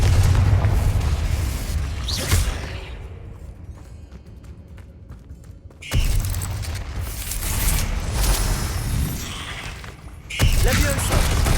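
Confringo blasting spell explosions in a Harry Potter video game, loud booming bursts with crackling debris, one near the start, another erupting around the middle and a third near the end, with a voice speaking over the din.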